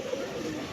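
Pigeons of tournament-flying breeds being sold coo together in a soft, steady, overlapping murmur, close by and brief, with no talking.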